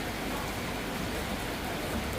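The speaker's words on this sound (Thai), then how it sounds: "ฝนตกอีกแล้ว" Steady rain falls outdoors during a Thai home cooking session, an even broadband hiss with a soft patter that continues without pause from start to finish.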